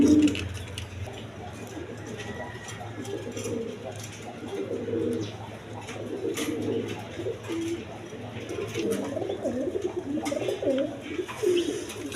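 Pigeons, including an orange chiller male, coo repeatedly in low, rolling phrases over a constant background hum, with a voice talking intermittently nearby.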